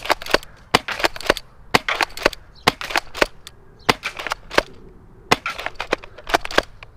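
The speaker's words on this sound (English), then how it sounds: "you can say what you want about the little shotguns, little Springer shotguns, but they are always fun to shoot" Springer airsoft shotgun fired over and over, each sharp, dry pop close and loud, coming in quick irregular bursts with brief pauses, no talking.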